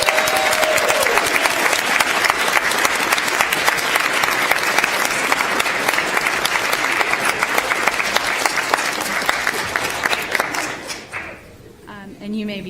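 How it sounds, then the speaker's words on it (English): A large crowd gives a sustained round of applause for newly sworn attorneys at a bar induction ceremony, dense and loud for about ten seconds before fading quickly, followed by a brief murmur. "Let's give them all a round of applause."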